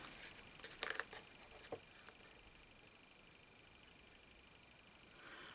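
A die-cutting machine presses a large paper heart through a thin die and cutting plate, giving a short crunching burst followed by a few faint clicks, then quiet.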